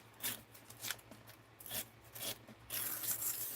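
Scissors snip through an index card being cut down to size in a craft setting, a series of short, close crisp cuts at an irregular pace, with a longer rasping stretch at the end.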